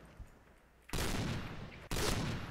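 Two heavy, booming sniper rifle shots in the shooter game Point Blank, about a second apart, each a sudden loud blast with a rolling tail, after a quiet lead-in.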